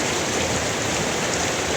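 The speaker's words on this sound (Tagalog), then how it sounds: "ang lakas nitong ulan na to" Heavy rain pours steadily, a dense, continuous hiss of drops drumming on surfaces with no pauses and no voices.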